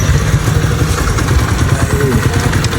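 A motorcycle engine runs close by at a home gate, giving a steady, loud, low rumble that idles without pause for the whole stretch.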